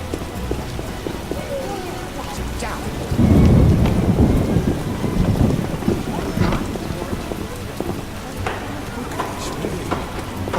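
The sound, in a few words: rain and thunderstorm in video game The Witcher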